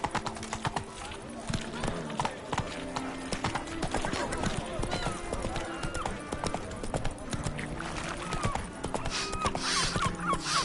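Roach, a horse in The Witcher 3, gallops with steady, rapid clip-clop hoofbeats throughout, close and loud, joined by a brief whinny and dense game sounds.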